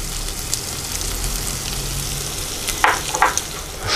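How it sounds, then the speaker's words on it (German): Bacon and garlic sizzling in a cast-iron Dutch oven, a dense even crackle with a few louder spitting bursts near the end, heard close and without voices. "Und dann wird weiter gebrotzelt."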